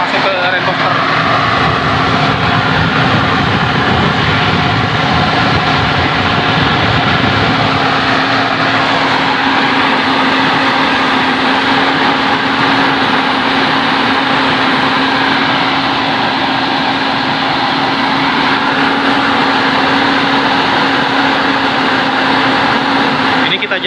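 A 2005 Toyota Innova petrol engine is held at 2000 RPM, idling at a steady raised speed: a constant droning hum with a low tone that barely changes for the whole stretch.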